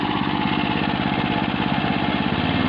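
A branch shredder's engine runs loud and close, a steady, throbbing mechanical drone that keeps up without a break and has no speech over it.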